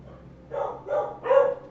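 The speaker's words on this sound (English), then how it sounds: "why are the dogs barking? It's 11 o'clock at night." Dogs barking at eleven o'clock at night, three short barks spaced about half a second apart, moderately close and clear against a quiet background.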